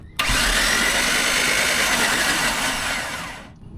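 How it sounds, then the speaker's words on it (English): A small engine cranked by a remote starter turns over loudly and steadily for a few seconds, a continuous whirring drone that cuts off abruptly. "you simply pull the trigger, spin the engine over"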